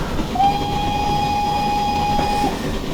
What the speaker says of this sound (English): spacebar for your regular whistle, which does have a little bit of a noticeable loop to it